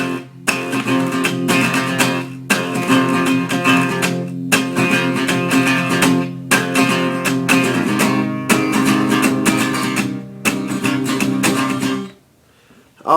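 Acoustic guitar strummed in a steady rhythm, bright chords ringing with brief pauses between phrases, played alone and close up before fading to silence.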